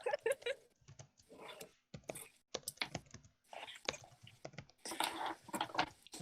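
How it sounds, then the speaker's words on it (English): Computer keyboard typing clatters in irregular bursts of quick keystrokes, faint and close, separated by short pauses, with no talk over it. "just hearing ominous typing in the background"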